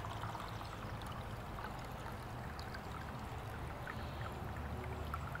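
Water poured off the light ash sediment in a container during gold and silver recovery from plastic IC chips, a steady, even wash of running water lasting the whole stretch with no talk over it.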